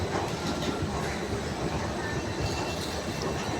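A Delhi metro train rumbles steadily with clattering wheels and a brief high squeal, no voices heard.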